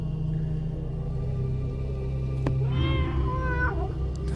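A cat in the video game Tormentum gives one clear, drawn-out meow over a low, steady ambient drone, preceded by a brief click.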